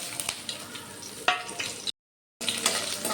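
Crushed garlic and mustard seeds fry in hot oil with a steady, close crackling sizzle. It cuts out briefly, then resumes just as loud.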